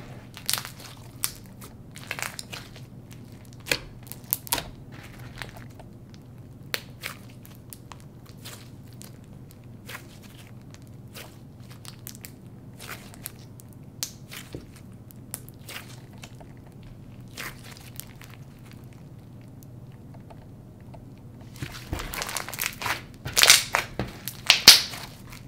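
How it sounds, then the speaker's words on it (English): Glittery slime packed with large foam beads is squished and pressed, giving sparse crisp crunches and sharp bubble pops over a quiet background, the pops growing denser and louder near the end. "It's super fun to play with, and the beads aren't too big to where it makes it awkward to play with slime."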